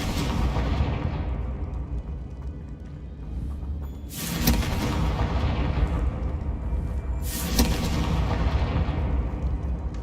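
The Confringo blasting curse fires in Hogwarts Legacy, setting off two loud, booming explosions about three seconds apart. Each one cuts through a dense, constant game soundscape.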